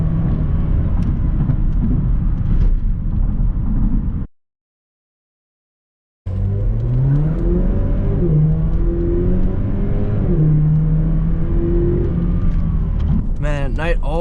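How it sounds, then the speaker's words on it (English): A 2020 Chevrolet Camaro LT Convertible's engine revs and accelerates loudly up close, its pitch climbing through the gears, with a brief silent gap partway through. "Here's another acceleration."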